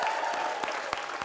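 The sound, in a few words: audience applause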